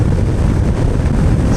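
Steady, loud wind rush buffets the microphone while riding a Honda NC750X motorcycle on the way to Bala Lake, a continuous broadband roar with no voices.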